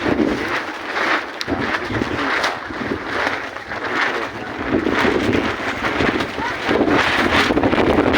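Wind blowing across an open scenic spot in the afternoon, buffeting the microphone with a steady, gusty rumble that swells and eases without pause.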